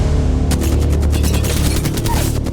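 Rapid rifle fire from an R-301 in Apex Legends, a dense burst of sharp, loud shots in quick succession that starts abruptly after a short quiet lead-in and keeps going under faint game ambience.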